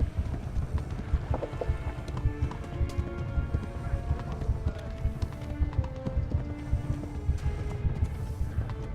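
Horse hooves clip-clop at a quick gallop in the medieval video game Kingdom Come, a steady close rhythm of hoofbeats over low rumbling game ambience with scattered tonal effects.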